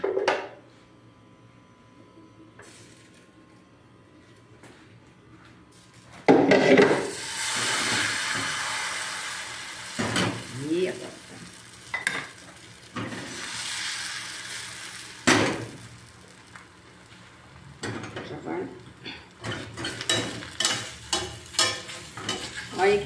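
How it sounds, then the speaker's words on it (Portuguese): Pancake batter frying in coconut oil: low quiet rustle at first, then a loud steady sizzle erupts as the batter hits the hot pan, continuing with scraping and utensil clicks, no voices. "um pouquinho de óleo de coco para mim fritar aqui a massa"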